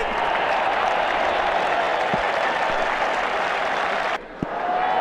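Crowd applause in the Brian Lara 07 cricket video game, a dense, steady wash of clapping that runs loud and continuous, then cuts out abruptly near the end before resuming.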